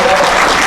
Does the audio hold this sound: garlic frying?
no